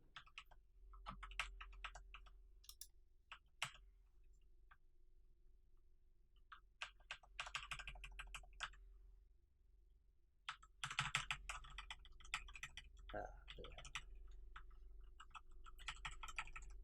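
Computer keyboard numpad keys are tapped to swing a racket in Wii tennis played on the Dolphin emulator, giving irregular sharp clicks in scattered bursts and quick clusters, close and fairly quiet, with no talking.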